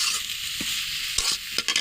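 Pumpkin and Malabar spinach stalks fry with spices in a pan, giving a steady close sizzle broken by quick spatula scrapes and taps against the metal.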